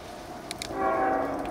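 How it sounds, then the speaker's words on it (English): BNSF train at a railroad crossing, a low rumbling roll with a faint tonal horn-like drone swelling in the background and a couple of brief clanks. "Yep, another train coming"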